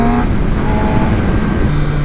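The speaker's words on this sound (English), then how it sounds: "And I'm riding the 2019 ZX10R." A tuned 2019 Kawasaki ZX10R sport bike with throttle maps and air-fuel reworked, its engine droning steadily and loudly up close while being ridden, a continuous buzzing roar with no pauses.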